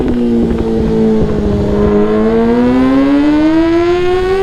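A Yamaha R6 600cc sport motorcycle engine screams at full throttle on a top-end run, one loud, steady, rising high-revving wail heard up close with no voices.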